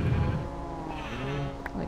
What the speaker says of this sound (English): that's the sheep.